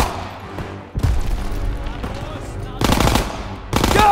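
Machine gun bursts ring out in a World War 2 video game battle, loud, rapid volleys that start up, pause briefly, then return in heavy sustained stretches with a shouting voice mixed in.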